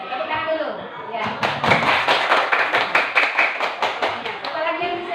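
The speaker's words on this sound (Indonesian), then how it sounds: "Tepuk tangan dulu." Students in a classroom clap together in a lively, fairly even rhythm of about a dozen sharp claps, with voices before and after.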